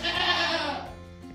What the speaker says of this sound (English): We are now milking goats.